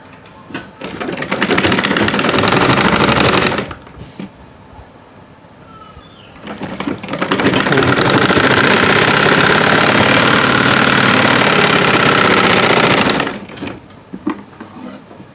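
An electric sewing machine runs loudly up close while stitching trouser pieces, two long bursts of steady motor hum and rapid needle chatter separated by a short pause, with quiet handling noise between runs and no speech.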